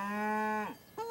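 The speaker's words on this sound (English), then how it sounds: "What are the cows saying?" Cows low in a cartoon farm scene: one long, loud, steady moo that bends down at the end, followed by the start of a second call.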